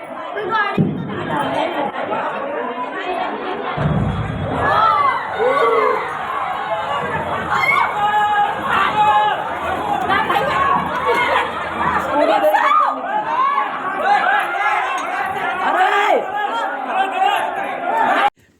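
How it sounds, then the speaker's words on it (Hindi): Panicked crowd after a CNG cylinder blast, a dense continuous mass of overlapping shouting, crying and wailing voices, loud and close, with people running amid the commotion. "किस तरह से लोग रो रहे हैं, भाग रहे हैं, चिल्ला रहे हैं"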